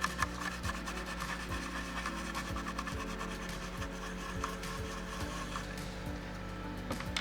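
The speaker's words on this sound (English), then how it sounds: "Try and get rid of all the flux. And then I'm going to finish it off with" A toothbrush scrubs flux off a soldered HDMI circuit board in quick, rough back-and-forth strokes, a steady, fairly loud rasping with faint background hum and no talk.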